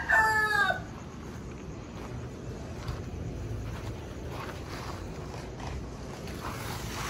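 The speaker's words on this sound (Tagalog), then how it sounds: "pinakita ko na sa inyo mga manok natin dito" A fighting cock crows once, loud and close, in the opening second, followed by a steady outdoor hiss with faint background noise and no further calls.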